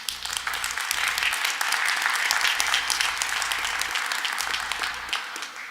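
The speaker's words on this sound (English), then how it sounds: "That deserves a round of applause." Audience applause fills the hall at the City of Flint State of the City address, a dense, steady wash of many hands clapping that holds at full strength throughout, with no talk over it.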